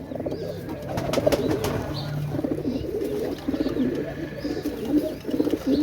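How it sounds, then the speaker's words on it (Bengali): Pet pigeons at a breeder's loft, several birds cooing in soft overlapping rolling calls, with a few faint chirps and rustles in the background and no talking. "দেখছেন বিয়ার্স অনেক সুন্দর কবুতর"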